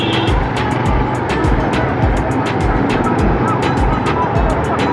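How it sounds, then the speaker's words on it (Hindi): Jammed road traffic in Quetta, heard from a Honda CB150F motorcycle, is a constant loud engine rumble with other vehicles close by and rapid rhythmic buffeting pulses throughout. "अब सारा ट्रैफिक जो है ना इनकी वजह से जाम है।"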